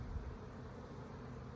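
Honey bees buzz at an open hive, a close, continuous low drone of many wings humming steadily without a break.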